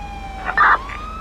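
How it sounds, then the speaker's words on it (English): A police car siren in the video game GTA V wails in a steady, rising and falling tone, briefly swelling louder in the middle before settling back, with a low engine hum underneath. "Is that my siren?"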